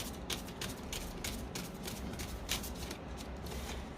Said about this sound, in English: I'm going to start to shuffle the cards